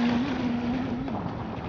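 Brushless ARPRO RC boat motoring across water nearby, a steady high-pitched motor whine that wavers slightly in pitch over a wash of water and wind noise, loud and continuous throughout.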